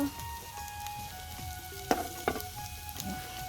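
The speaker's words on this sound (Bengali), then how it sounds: "আর এদিকটা হচ্ছে যে আপনার মাছ ভাজি করছি" Fish sizzles quietly in a pan in a village home kitchen, a soft steady crackle with a couple of brief clinks partway through; faint and close, with no speech.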